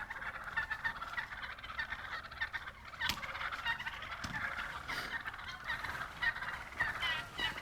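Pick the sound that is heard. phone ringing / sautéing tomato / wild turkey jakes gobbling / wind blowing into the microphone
wild turkey jakes gobbling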